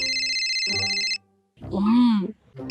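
A phone rings with a steady, repeating electronic tone, loud and close, then stops, and a voice speaks after it.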